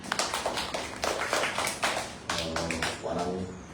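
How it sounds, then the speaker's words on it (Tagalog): A church congregation clapping to applaud the Lord, a dense run of claps and taps at the start that thins out, with a voice speaking over the later part. "Palakpakan natin ang Lord."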